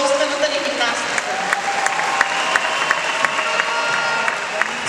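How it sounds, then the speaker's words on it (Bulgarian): A crowd at a rhythmic gymnastics ceremony applauds loudly with some cheering, a dense, steady clapping punctuated by sharper individual claps, while voices speak over it. "И искам вашите аплодисменти"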